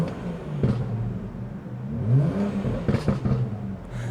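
A BMW 335i with catless downpipes revs its exhaust, a low rumbling drone that rises in a short rev and then settles, heard up close with some clatter and no talking.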